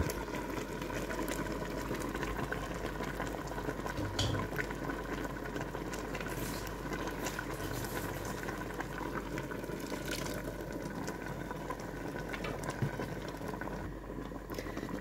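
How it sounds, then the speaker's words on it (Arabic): Onion and grated tomato fry together in a pot for couscous, giving a soft, continuous bubbling sizzle at low volume with faint scattered crackles and no talking. "غنخلي هاد البصله ومطيشه يتقلاو مع بعضياتهم"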